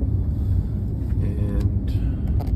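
Steady low road rumble of a car cruising along a highway, a continuous broadband drone with faint tonal whine above it, heard from inside the cabin with no talk.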